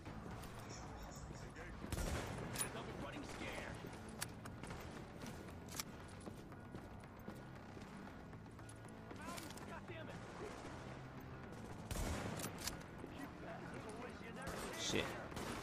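Gunfire in the third-person shooter The Division, bursts of automatic weapon shots with a few louder bangs, while a player talks over the action.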